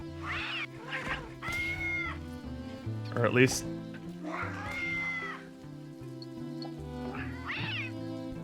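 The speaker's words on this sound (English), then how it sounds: "they sound very much like a cat in the original" A cat-like creature in a video game meows repeatedly with a filtered, processed tone, in several short cries spread across the clip, while a person talks over them.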